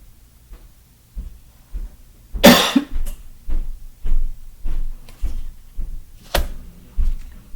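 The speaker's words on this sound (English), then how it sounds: "Sorry about that coughing." One sharp, loud cough bursts out, followed by a series of quieter soft knocks and thumps in a loose, uneven rhythm.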